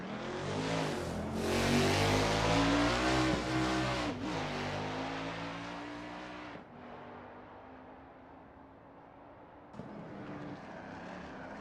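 A 1989 Camaro Z28 IMSA GTO race car laps the Daytona road course in a racing game, its V8 engine roaring loud and steady with rising and falling revs and sharp gear-change breaks.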